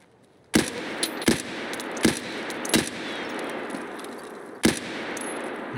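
Sporadic gunshots in Escape from Tarkov, about five sharp cracks spaced a second or so apart with a quieter sixth, ringing out over a low ambient hum with no talking.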